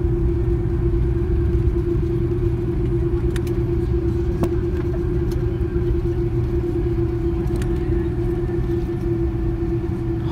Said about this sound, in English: Hard braking here.